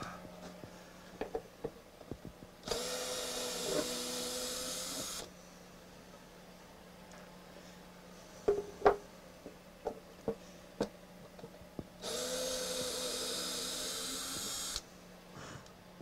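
A drill backing screws out of a wood turning blank just removed from a lathe, two bursts of whirring hiss a few seconds each, separated by small clicks and handling knocks.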